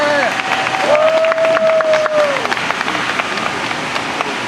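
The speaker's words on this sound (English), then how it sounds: "Can we have a clap, please?" An audience at an anniversary concert in a museum claps and cheers, dense applause throughout, with a whistle and voices mixed in.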